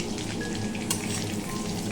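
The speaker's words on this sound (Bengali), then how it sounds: "এই মাছগুলো ভাজতে এত প্রবলেম হয় কড়াইতেই ধরছে না" Fish frying in a wok, a steady dense sizzle of hot oil running throughout with a brief sharp spatter near the middle, close and fairly loud, no voices.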